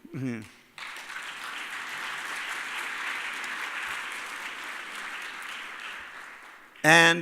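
Audience applause sustained for several seconds after a conference's closing remarks, framed by brief speech at the start and end.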